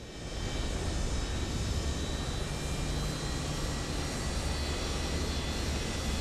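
Simulated jet engines of a Boeing 727 in Microsoft Flight Simulator 2024 spool up into a steady, loud roar with a broad rushing hiss and a faint high whine, holding constant throughout.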